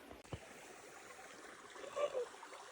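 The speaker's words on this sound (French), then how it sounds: "Nous voilà arrivés à la première rivière." A cold mountain river on a hiking trail flows in a steady, broad wash of running water, close by, with a brief splash or gurgle swelling near the end and no talk.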